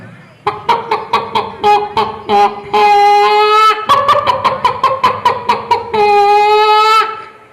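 A mimicry artist at a school arts festival imitates a hen laying an egg, voicing a series of rhythmic clucks that build into long, loud, drawn-out cackling calls, all done by a human voice with no real bird.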